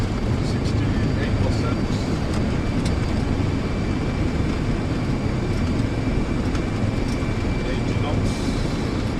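A Boeing 767-300 airliner rolls out after landing with reverse thrust, a steady loud roar of engine and runway noise throughout, with cockpit voices calling out over it.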